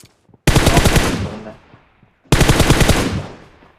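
Two loud automatic bursts of gunfire from the mobile shooter BGMI, each a rapid rattling volley of about a second followed by a short decaying echo, separated by a brief silence.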